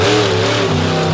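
A monster truck's heavy-duty engine roars loudly and continuously in a close, sustained rev with a steady droning pitch at an indoor freestyle event.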